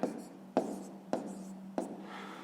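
Numbers written by hand during long division, four quick pen or chalk strokes, each with a sharp start and a short scratchy tail, close by and quiet, with no talking.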